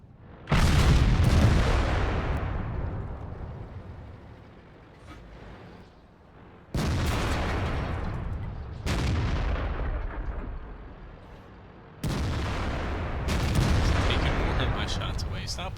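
Tank cannon shots in the World of Tanks video game, including an IS-6, boom out as four heavy, loud blasts spaced several seconds apart, each leaving a long rumbling decay.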